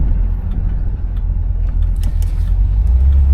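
A 1975 Pontiac Grandville engine runs steadily at idle, a smooth continuous low rumble close by with no knocks, squeals or other irregular noises.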